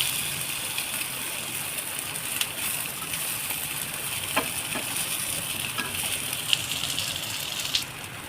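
Potato tikki patties frying in oil in a home kitchen, a steady close sizzle with occasional small pops and clicks as they are flipped, no talking over it.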